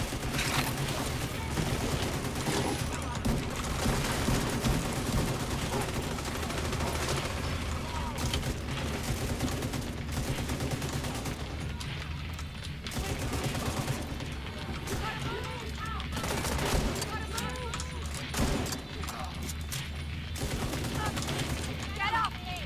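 Continuous dense automatic gunfire and shooting in the video game The Division 2, rapid bursts layered with mechanical clatter and game effects throughout, with occasional voice lines beneath.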